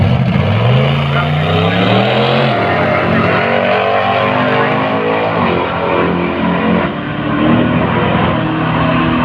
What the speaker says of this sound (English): Both cars edging up now.